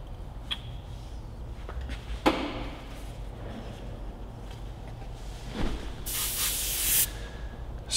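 Airbrush spraying yellow paint onto the eye of a weird bat model, a soft hiss in short bursts, the longest near the end, fairly close and alone.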